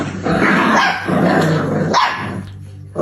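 A black puppy barking: several close, loud yaps with a growling edge, in short bursts that fade to quiet at the end.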